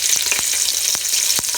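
Green chillies, cut lengthwise, sizzling and frying in a pan for mutton biryani, a steady bright crackle with a few clicks of stirring, close and without talk.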